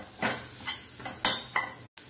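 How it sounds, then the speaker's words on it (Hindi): Turmeric and Kashmiri red chilli roasting in a hot pan for a paneer macaroni curry, with soft sizzling and a few spoon stirs scraping the pan in short separate bursts. "इसको हम 1 से 2 मिनट अच्छे से भून लेंगे।"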